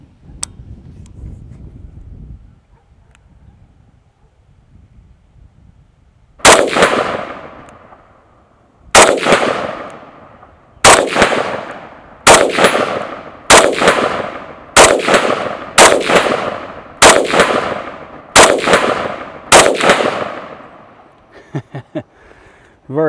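A Sig Sauer 556 rifle fires 5.56 ball ammunition outdoors: after a quiet lead-in, about ten loud, sharp shots ring out at a slow, fairly even pace, each with a ringing, echoing decay.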